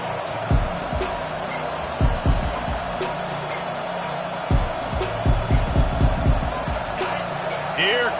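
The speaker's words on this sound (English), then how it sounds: "Here comes this home crowd as the defense tries to get off the field on third down." Home crowd at a college football game on third down, a steady roar with repeated swells of cheering under a commentator's voice.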